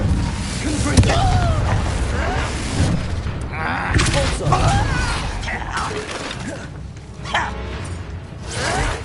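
A Confringo blasting spell explodes in a Harry Potter video game, a booming burst with shattering crackle buried in a dense wash of clattering spell effects and mechanical noise.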